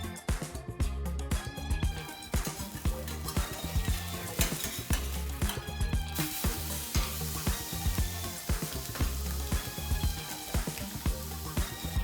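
A tilapia fillet sears in a very hot pan, throwing off a loud, dense, crackling sizzle that runs continuously and close up, with no voices over it.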